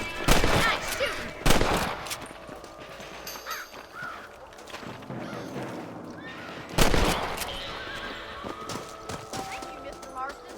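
Rifle gunshots in the Red Dead Redemption video game, with a couple of loud, sharp cracks spaced several seconds apart, horse hooves and game sounds around them.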